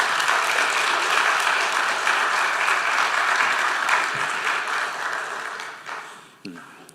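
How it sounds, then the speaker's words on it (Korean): A church congregation applauds to welcome a missionary speaker to the pulpit, dense sustained clapping that fills the room, then thins and fades away over the last seconds. "나오실 때 큰 박수로 환영하겠습니다."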